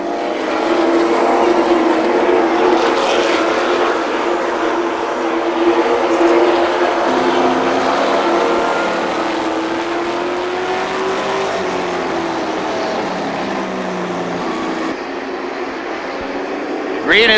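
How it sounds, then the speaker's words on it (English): Chevy Vortec V8 race trucks roar around Cajon Speedway, engine notes rising and falling as they pass, loud and continuous with a commentator talking over them. "The Chevy Vortec V8 engine's thundering here at Cajon Speedway."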